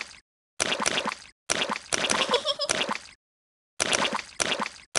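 Repeated splashing in muddy puddles in a Peppa Pig video game, bursts of wet plopping and squishing separated by short silent gaps, close and loud.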